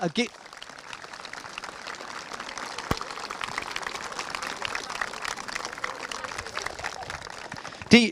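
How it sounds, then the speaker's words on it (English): Broadband clapping from a crowd fills the clip, a steady wash of applause at a senior camogie final that starts abruptly and holds at moderate level throughout. "can you give us the biggest clap for both sides"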